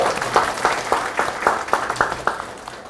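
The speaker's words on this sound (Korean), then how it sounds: "큰 박수 부탁드리겠습니다" A room of people at a political party members' meeting applauds with steady, scattered clapping that carries on throughout.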